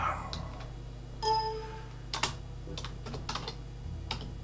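Bursts of computer keyboard typing while entering text in Vegas Pro editing software, close and crisp clicking in short irregular runs separated by pauses over a faint steady hum.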